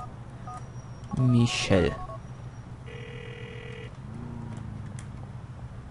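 A phone in the video game GTA IV dials with a quick run of bright keypad tones, then gives a steady electronic ringing tone over a constant game background hum; a voice speaks briefly before the dialing.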